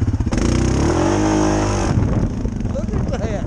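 A Suzuki KingQuad 750 ATV four-wheeler engine revs hard, its rising harmonic whine climbing loud and close before cutting back to a rough, uneven idle.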